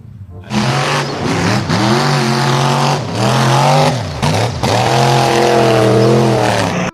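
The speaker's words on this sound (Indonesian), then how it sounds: "Wah, kalau yang ini ada truk monster." A toy monster truck's engine roars and revs steadily, its pitch sliding up and down with a few short breaks, loud and close.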